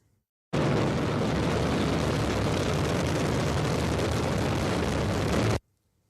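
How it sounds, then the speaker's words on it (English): A Chinese rocket blasting off gives a loud, continuous broadband roar that holds steady for about five seconds, starting and stopping abruptly, with nothing else audible. "China is blasting off rockets at a furious pace"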